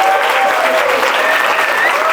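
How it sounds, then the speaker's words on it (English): Comedy club audience in Amsterdam applauding at a stand-up show, a loud, dense wash of clapping lasting a couple of seconds, with a few faint cheers and voices mixed in. "A round of applause for them,"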